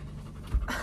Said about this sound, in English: hopefully she stops panting at some point because I know it's really loud